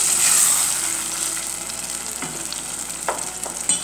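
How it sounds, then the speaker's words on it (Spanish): Eggs mixed with cheese are stirred in a frying pan, giving a steady close sizzle with soft spoon scrapes and a sharper clack near the end, no voices. "Pues los removemos así los huevos."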